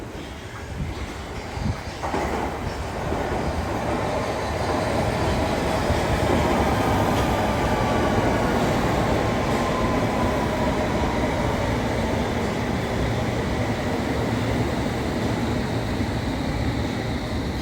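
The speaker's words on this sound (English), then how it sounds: "And there goes the Metropolitan line train." A London Underground Metropolitan line train rumbles past, loud and steady, with a rushing roar that builds and holds throughout and no voices.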